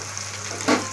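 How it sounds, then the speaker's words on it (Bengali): Vegetable chops dropped into hot oil sizzle and bubble steadily, with a brief louder burst of frying near the end, close and alone. "এই দেখো আমি তেলে ছাড়লাম"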